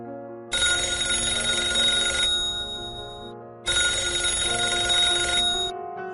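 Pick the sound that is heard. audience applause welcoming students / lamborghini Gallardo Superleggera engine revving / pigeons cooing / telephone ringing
telephone ringing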